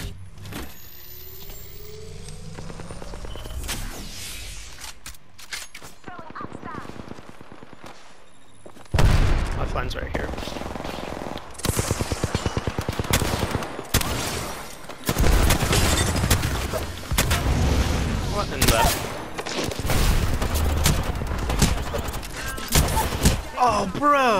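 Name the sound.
gunfire in video game Apex Legends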